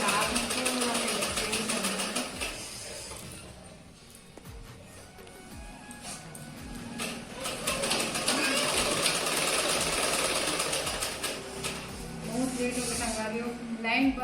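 Sewing machine stitching a designer blouse, a rhythmic mechanical whir that runs in bursts and pauses with someone speaking over it at times.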